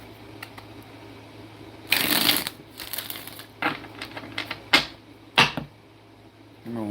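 Tarot cards riffle-shuffled up close, a couple of loud fluttering bursts followed by softer taps and flicks.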